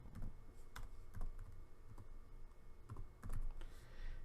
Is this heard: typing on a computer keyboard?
yes